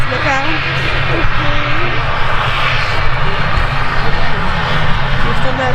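An Icelandair Boeing 767-300 jet takes off at Manchester Airport, its loud continuous engine roar holding steady throughout while people chat over it.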